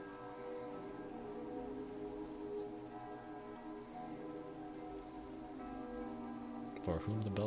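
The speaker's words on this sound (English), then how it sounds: "For whom the bell tolls" A bell tolls in the game Honkai: Star Rail, its long sustained ringing hum filling the background with steady tonal overtones, then a brief sharper burst of sound near the end, with no talking over it.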